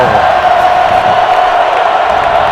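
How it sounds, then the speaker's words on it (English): A big football stadium crowd roars and cheers loudly before a championship game snap, a dense, continuous wall of noise with scattered whoops. "The crowd is on its feet and loud"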